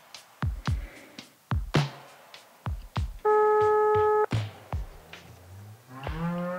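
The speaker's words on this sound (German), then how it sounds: "Wir haben immer noch nur Freizeichen." On a speakerphone call in Bosnia and Herzegovina, one steady ringback tone lasts about a second, surrounded by sharp knocks and clicks, with a low, drawn-out lowing sound near the end.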